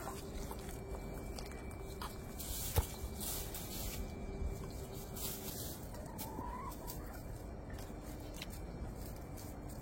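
Chickens cluck softly amid a steady outdoor hiss at a mountain home, with a brief sharp knock partway through and no talking.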